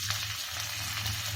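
Onion added to hot oil with mustard seeds and curry leaves for a toor dal chutney, a short burst of even, dense sizzling, close and steady, with no voices.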